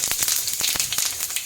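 Mustard seeds and cumin sizzle in hot oil while a jackfruit stir-fry is being made, a steady bright hiss broken by quick popping crackles, near and loud, with no voices.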